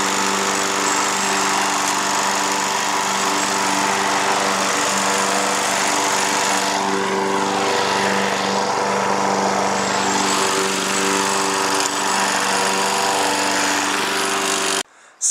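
A lawn mower engine runs steadily nearby, a continuous buzzing drone with a fairly constant pitch that holds for the whole stretch before cutting off abruptly at the very end.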